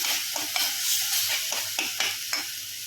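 Tadka sizzling in hot oil for raw mango chutney, a steady bright hiss with soft stirring clicks and spoon scrapes repeating every half second or so, close and continuous with no talking.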